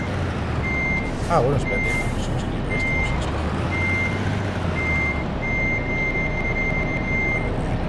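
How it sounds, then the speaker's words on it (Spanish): Rhythmic truck reversing beeps from the Truck Simulator Ultimate game repeat steadily over a low engine rumble, with someone briefly speaking over them. "Ahí, marcha atrás."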